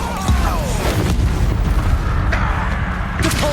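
Bombarda explosion spell cast in Hogwarts Legacy combat, a dense run of booming blasts and crashing impacts that stays loud and continuous throughout, with game sounds layered on top.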